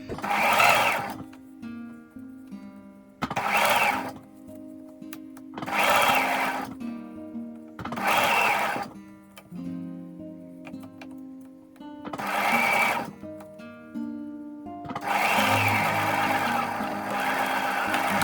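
A sewing machine stitching a seam in a fabric headband: six or seven bursts of rapid mechanical whirring and clatter, each a second or two long, separated by short quiet pauses, with a longer run at the end, close by.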